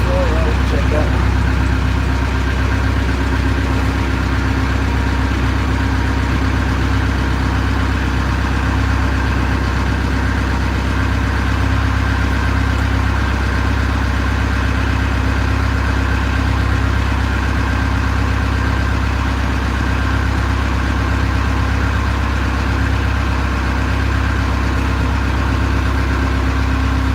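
A diesel engine, its battery reading 12.8 volts, runs at a steady idle throughout, a constant low rumble with a faint hum above it. The start itself isn't distinct.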